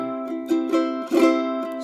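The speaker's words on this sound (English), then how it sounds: "And then the fan strum sounds like this." A high-G ukulele played with a fan strum, bright ringing chords with several quick strum accents over a brief sustained passage, close and unaccompanied.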